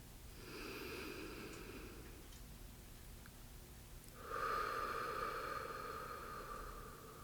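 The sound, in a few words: slow deep breathing in and out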